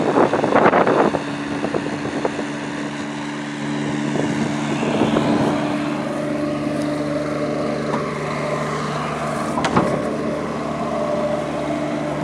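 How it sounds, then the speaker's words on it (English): Onan 7500 diesel generator on a 2006 Fleetwood American Tradition class A diesel pusher motorhome, running with a steady low mechanical drone and engine hum, close and fairly loud, with a few brief clicks and knocks over it. "Here's your 7500 Onan diesel generator. It will run everything on this coach."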